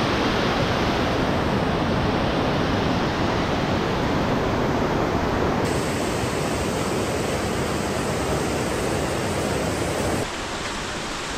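A Nepali river near Dupcheshwor Mahadev in Nuwakot rushes in a dense, steady roar, loud and close, with no voices over it.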